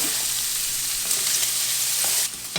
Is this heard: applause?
no